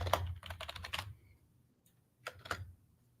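Soft typing on a computer keyboard, a short burst of rapid key clicks, a pause, then a few more keystrokes, quiet and close with no talking.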